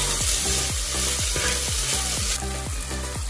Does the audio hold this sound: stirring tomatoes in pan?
yes